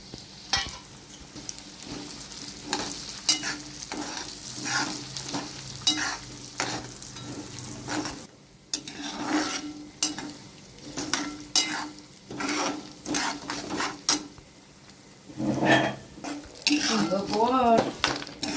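Semolina roasts in a pan for sweet lapsi with steady scraping and stirring, metal clinks against the pan and a soft sizzle, close and continuous over many seconds, with brief talk late on.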